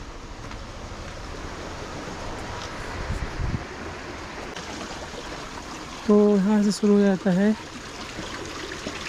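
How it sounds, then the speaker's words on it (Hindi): Steady rushing of a stream flowing through Turtuk village in Ladakh fills the background, while someone speaks over the water and a brief tonal sound rises near the end. "पानी।"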